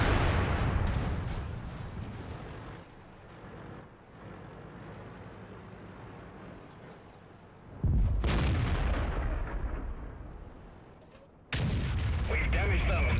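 The FV215b (183) tank destroyer's cannon firing HESH shells in World of Tanks, on the Hidden Village map: heavy, booming blasts that ring out and decay, two sharp later shots standing out clearly over rumbling game noise.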